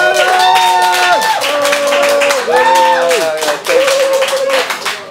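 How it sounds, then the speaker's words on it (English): Pub quiz audience at a trivia night claps steadily throughout, nearby and fairly loud, while music with sustained tones plays along underneath. "I think we can give them another round of applause just for that"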